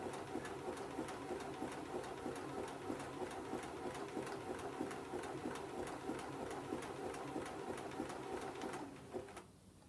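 A Bernina sewing machine stitches steadily at a fast, even rhythm, loud and close with a regular mechanical chatter throughout, slowing and stopping just before the end.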